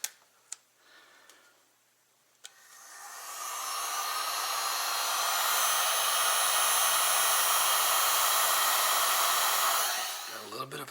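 Heat gun warming vinyl wrap on a BRP Oxygen helmet, a few small taps and clicks, then the blower whirs up into a loud steady hot-air roar that holds for several seconds before shutting off.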